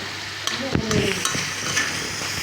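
Potatoes and raw tomatoes stir-fry in a pan for a rohu fish curry, with a steady sizzle broken by a few sharp scrapes and clinks of a spatula against the pan.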